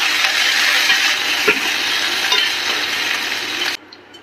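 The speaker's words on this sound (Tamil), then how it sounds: "இப்போ ஆயில் நல்லா சூடாயிடுச்சு. இதில் நம்ம ஆனியன் ஆட் பண்ணலாம், வெங்காயத்தை ஆட் பண்ணலாம்." Chopped onion sizzling in hot oil in a pan with chicken cooking, a steady loud broadband fry with small crackles and stirring scrapes that cuts off abruptly near the end, leaving quieter residual sizzle.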